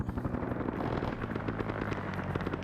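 A helicopter in a Vietnam war video game takes hits, its continuous heavy rotor chop overlaid with rapid crackling impacts and bursts at close range. The sound is loud and dense throughout.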